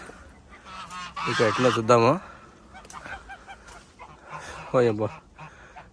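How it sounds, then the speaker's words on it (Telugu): Ducks quack loudly nearby in two bursts of harsh, honking calls, with a person speaking briefly in between. "ఈ బాతులు ఉన్నాయి కదా"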